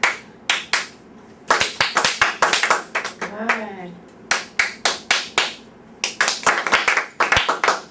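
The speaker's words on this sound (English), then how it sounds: "How about I clap, and you copy me." A classroom clapping game where a teacher claps short rhythmic patterns and the class echoes them: bursts of sharp, close hand claps in uneven groups with brief gaps, a voice briefly speaking between patterns.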